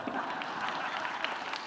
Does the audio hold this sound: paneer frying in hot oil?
no